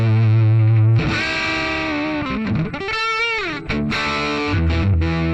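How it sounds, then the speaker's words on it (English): Muddy, heavily overdriven electric guitar tone through a Mooer preamp pedal, thick sustained distorted chords ringing loud with a few brief shifts and restrikes, played alone. "It's back to that super muddy, overdriven sound."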